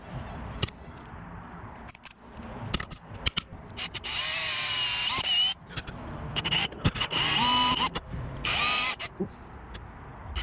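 A power drill drives thick screws into a wooden speaker box in several loud whirring bursts with rising and falling pitch, separated by clicks and handling knocks.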